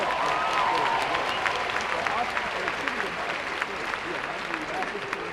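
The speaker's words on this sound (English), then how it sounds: "needs a round of applause" Commencement audience at a college ceremony breaking into sustained applause, a dense steady wash of clapping filling the room from start to finish.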